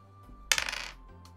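An eight-sided die rolls in a short, quiet clatter of small hard knocks that lasts under half a second and fades out.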